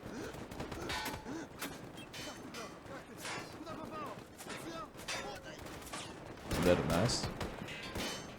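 Gunfire from a show, with PMC soldiers firing AK-platform rifles, crackles as dense repeated bursts, heavier near the end, while voices speak over it.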